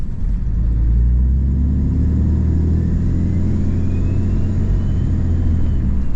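A deep, steady compound-turbo Cummins diesel truck engine lugs at low revs in 4th gear, heavy rumble dominating with a constant muffled hum throughout, no voices.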